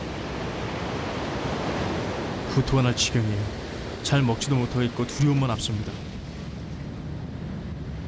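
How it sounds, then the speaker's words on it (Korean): Ocean waves strike a ship's deck in bad weather at sea, a constant rushing wash under a voice speaking. "편지를 쓰고 있는 지금도 앞 간판을 때리는 파도 소리가 들리는군요"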